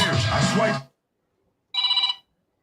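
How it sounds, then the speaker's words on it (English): A telephone rings once in a short electronic trill after a stretch of talk, followed by silence, in a radio call-in show setting. "Let's get the phone ringing."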